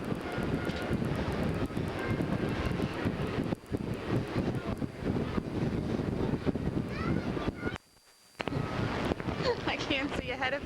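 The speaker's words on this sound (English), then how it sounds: "Very windy up here." Strong wind gusts across the open Skyline Tower observation deck above Niagara Falls in 1978. A loud, constant blustery rumble fills the whole clip, easing only briefly near the end, with faint voices beneath it.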